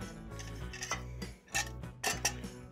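A metal canteen cup from a camping cook kit is handled, giving a few close, light clinks and knocks of metal at irregular moments.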